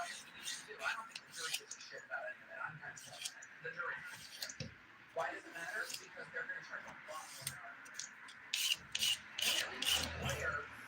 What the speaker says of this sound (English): filing that thumbnail